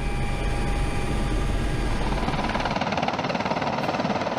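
A Mi-26 heavy helicopter landing, its loud, steady rotor and turbine roar filling the scene, the low thudding blade beat shifting slightly as lift is reduced and it settles onto its gear.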